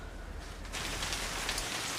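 Steady rain falls outside a porch, starting abruptly as a dense, even patter that holds at a constant moderate level.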